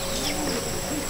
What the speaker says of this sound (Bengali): এটা চন্দ্রঘানি পায়রা